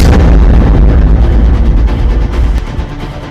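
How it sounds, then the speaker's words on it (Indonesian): A torpedo strikes the midsection of the Indonesian vessel RI Macan Tutul and explodes, giving one loud, deep, sustained boom that rolls on for a few seconds before slowly easing off. "tembakan kedua HRMS Eversden mengenai bagian tengah RI Macan Tutul, sehingga terjadi ledakan"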